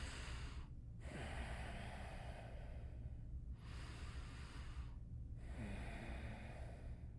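Slow, deep breaths during a neck stretch for forward head posture: three long, breathy inhale-exhale cycles with short pauses between, close and steady, no talking.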